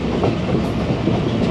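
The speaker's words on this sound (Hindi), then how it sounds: "ट्रेन हमारी इस वक्त रायवंड जंक्शन रेलवे स्टेशन पे अप्रोच कर रही है" Khyber Mail passenger train approaching Raiwind Junction railway station, a steady loud rumble of rolling wheels and carriages with faint clickety-clack, heard close and continuous.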